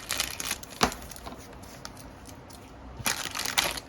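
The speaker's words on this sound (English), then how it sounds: "the kit itself comes in one little sealed plastic bag. All right, so we're going to cut this open" A sealed plastic bag holding a model kit is cut open and crinkled close by, with sharp crackling bursts at the start and again near the end and quieter rustling in between.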